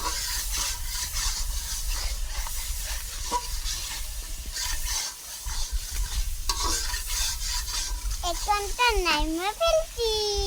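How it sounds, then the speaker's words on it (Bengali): Curry being stirred and fried in a pan in a village kitchen, with continuous scraping and sizzling, a voice and other talk over it, and a sung or whistled tune near the end. "এখন ভালো করে কষাবো যতটুকু পর্যন্ত তেল না উঠবে ততটুকু কষাবো"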